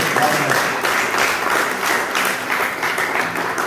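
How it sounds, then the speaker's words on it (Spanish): A church congregation at Sunday Mass applauds the day's offerings, a loud sustained round of clapping filling the room with no voices over it. "Un fuerte aplauso para las ofrendas de hoy"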